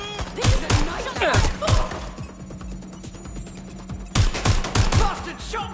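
Bursts of automatic gunfire from the Watch Dogs: Legion game, clustered volleys of sharp shots separated by a quieter stretch in the middle, then resuming.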